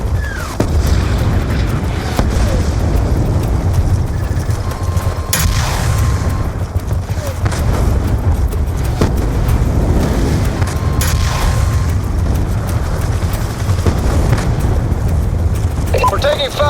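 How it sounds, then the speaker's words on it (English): Booming explosions and bursts of heavy gunfire from attacking helicopter gunships over a base in the video game Call of Duty: Black Ops II, sustained and loud across the whole stretch with rumbling low end. "We're taking fire from the gunships right above the base."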